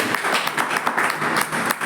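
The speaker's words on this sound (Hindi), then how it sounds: "एक जोरदार ताली आती है।" Audience at a live Hindi product demonstration breaks into loud applause, dense continuous clapping filling the room close up for about two seconds.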